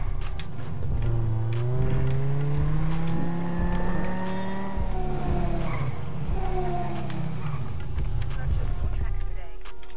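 A car in the GTA RP game Brazuca City drives with a steady engine drone and rising revs through shifting gears, loud and continuous, with a brief tire squeal and game sounds layered on top.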